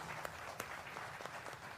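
Studio audience applause greeting guests on a televised Hindi political debate show, a steady mid-level patter of many hands throughout.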